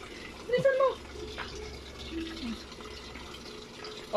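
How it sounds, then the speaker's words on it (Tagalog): Water runs steadily into a Haier automatic washing machine that is filling slowly with weak pressure, a faint, continuous trickling and splashing under occasional brief voices. "Oh, okay ka na dito sa malakas na tubig."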